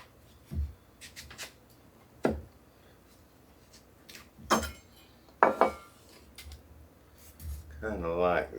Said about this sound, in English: cut those in manageable little slices